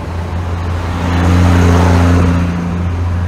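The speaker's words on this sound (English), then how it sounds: "Jamaica garbage truck." A garbage truck idles and rumbles on a street in Jamaica, a steady low engine drone with a throaty hum that swells slightly midway and stays loud and close throughout.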